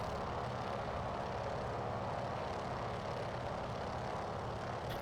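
The big radial engine of a Norseman floatplane in a flight simulator drones steadily and loudly, a dense, unchanging roar with no pauses.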